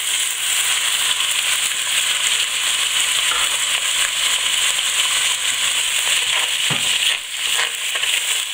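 Cuttlefish sizzle hard in hot olive oil in a heavy sauté pan over high heat, a loud, steady, close frying hiss with a brief crackling flare near the end.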